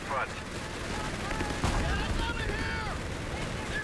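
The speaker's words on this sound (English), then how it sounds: "The machine gun just lighting up the AT guns." Machine gun fire in the video game Company of Heroes 3 rattles on under a dense battle mix, with a sharp blast midway and whistling, whining tones overhead, continuous and moderately loud.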